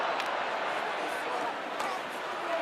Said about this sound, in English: Gets another roar from the crowd.